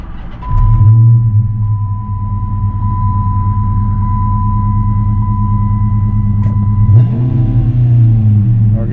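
A 5.7L car engine fired up after a 93 octane tune, cranking briefly then settling into a steady, loud, close idle with a deep rumble and a constant whine, the revs shifting once near the end.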